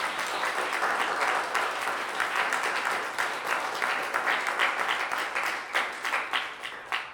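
Loud applause from a church congregation, a dense sustained wash of many hands clapping that thins into scattered claps toward the end.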